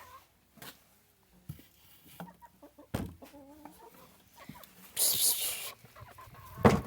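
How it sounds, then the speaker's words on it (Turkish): Chickens cluck and squawk in scattered bursts, with a loud flapping or rustling burst and some background noise. "Tavuklar."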